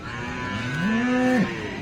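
A single cow moos close by at a cattle market, one rising, drawn-out call that ends abruptly, with faint background noise behind it.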